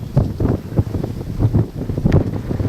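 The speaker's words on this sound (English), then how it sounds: "Windy day." Strong gusting wind buffets the microphone in low, uneven rumbles and thumps, continuous throughout with no voices.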